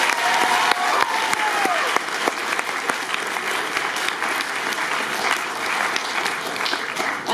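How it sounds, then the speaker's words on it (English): A TEDx audience gives its speakers a round of applause, dense sustained clapping from a sizable crowd that stays loud and even throughout. "Let's give a big round of applause for our speakers today."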